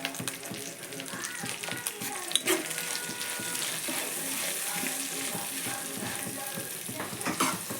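Ivy gourd (tindora) slices fry in a pan with turmeric, giving a steady close sizzle broken by scraping stirs and occasional utensil clinks.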